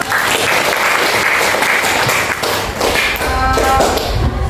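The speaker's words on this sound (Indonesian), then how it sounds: "Oke, tepuk tangan dulu untuk semua kelompok" Applause for student groups in a classroom during a teacher-training session, steady and fairly loud hand clapping with some tapping and thumping sounds, continuous across the clip before a voice starts speaking near the end.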